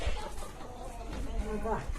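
Roosters cluck in short bursts near a person talking, with faint farmyard background noise.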